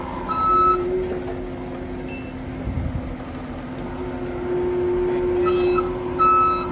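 A forklift at work beside a huge Mack truck, preparing to lift a roughly 1,000-pound tire and rim: intermittent electronic reversing beeps and whining tones sound over a low engine rumble, at moderate distance.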